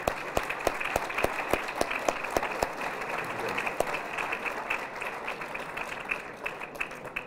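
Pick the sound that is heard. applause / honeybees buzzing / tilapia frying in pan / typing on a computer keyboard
applause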